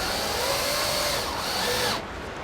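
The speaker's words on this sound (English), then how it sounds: "But the electric drill is doing the bulk of the work." An electric drill drives screws while refurbished AVR units are refitted on a vehicle outdoors, giving a steady continuous whir at close range that holds for about two seconds, then stops abruptly.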